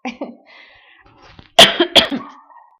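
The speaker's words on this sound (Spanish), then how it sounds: "estoy con una crisis de tos" A person coughs hard twice in quick succession, close by, after a few faint throat sounds.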